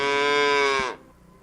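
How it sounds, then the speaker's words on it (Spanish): A calf gives a single long, drawn-out bleat, loud and close, with a steady tone that holds for nearly a second before cutting off into quiet background. "un becerro berrea. Y el sonido que produce es algo parecido a esto"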